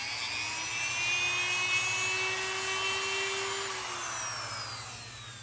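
A Dremel rotary tool grinding a metal guide on a freshwater fishing rod, a steady high-pitched whine with a rising tonal note that sweeps and drops near the end, continuous and close with no talk.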